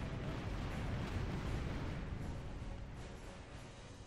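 In the pirate action game Tempest, a cannon barrage against a fort wall produces a dense, continuous rumble of blasts and booms, loud and sustained throughout with no talk.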